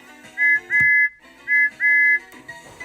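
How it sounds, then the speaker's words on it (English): Thomas the Tank Engine's wonky steam whistle sounds as four sharp, loud, high toots in two short-long pairs, alone over faint background. "Something's funny about my whistle!"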